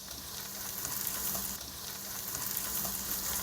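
Onions sizzle steadily in a pan for a homemade tomato pasta sauce while being stirred, a close, even frying hiss with faint scraping and no talk.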